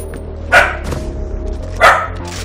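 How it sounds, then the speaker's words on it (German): A dog barks at the neighbours, two sharp, loud barks about a second apart, close by, over a low steady background hum. "Der bellt immer unseren Nachbarn an."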